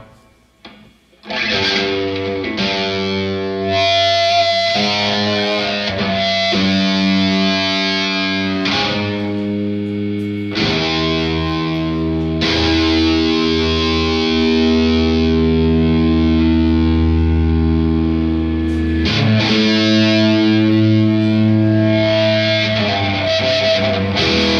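Live electric guitar pushed through effects gives loud, distorted, droning tones with feedback and noise, holding shifting sustained notes for over twenty seconds without a pause.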